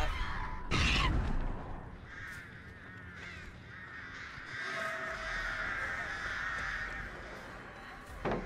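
Crows caw repeatedly in a video game, harsh calls layered over one another with a sharp burst near the start and a steady background hum.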